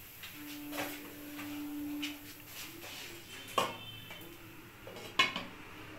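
A lid goes onto a pan of carrot rabri with soft metallic clatter, one sharp clank midway and another near the end, fairly quiet and close.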